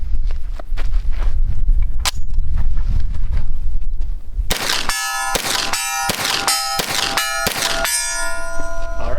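Fiocchi 115-grain 9mm full metal jacket rounds fired from a personal defense weapon at steel targets on an outdoor range: about five loud shots, each followed by a bright metallic ringing clang, after quieter background noise and footsteps.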